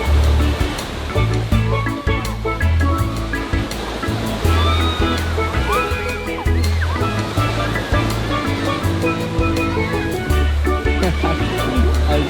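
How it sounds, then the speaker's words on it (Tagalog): Strong waves crashing onto a shore in very windy weather, a loud continuous surf roar with gusty wind buffeting, plus faint distant voices and scattered tonal sounds in the background. "Kakaiba yung hampas dito ng ano, malakas yung hampas ng alon. Kasi nga sobrang mahangin,"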